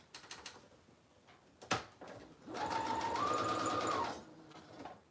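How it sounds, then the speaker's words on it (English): A sewing machine stitches around the edges of a paper collage masterboard for a journal, a steady close whirring run of about a second and a half, preceded and followed by brief handling taps and clicks. "I'm just sewing around the edges."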